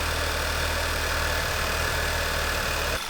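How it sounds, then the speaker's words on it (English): A 2013 Volkswagen GTI Mk6 with a manual gearbox and Stage 1 tune idles right after a cold start with a misfire, giving a loud, steady engine drone with faint uneven stumbles before it cuts off abruptly. "this is the cold start misfire I'm talking about"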